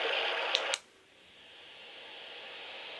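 A baby sound machine plays a waterfall sound: a steady hiss of rushing water that cuts off abruptly, then returns faintly and swells slowly.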